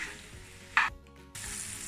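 Squash and onions frying in a pan give a soft, steady sizzle that briefly flares louder, drops almost silent for a moment, then resumes at an even hiss, with no voices.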